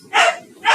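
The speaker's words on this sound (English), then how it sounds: "That's my dog." A pet dog barks twice indoors, two short, fairly loud bursts separated by a brief pause, heard close by in a home setting while a podcast is being recorded.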